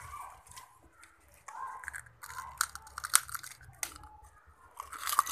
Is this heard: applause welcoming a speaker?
no